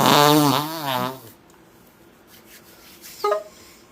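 A single loud, drawn-out fart with a wavering, buzzy tone lasts just over a second up close, then fades into quiet room tone with a faint short blip near the end.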